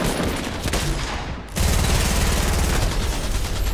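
Rapid automatic gunfire from a faster-firing weapon in Fortnite, a dense continuous burst that cuts out briefly and then resumes at full loudness, close and loud with no talking.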